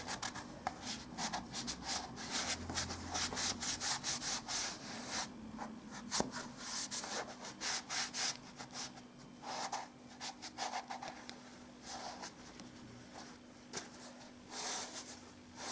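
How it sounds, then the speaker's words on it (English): Soft rubbing and wiping strokes of a damp cloth smoothing hardened filler on woodwork, irregular and repeated, close by and fairly quiet, with no talking. "I'm now just going to wipe it with a damp cloth"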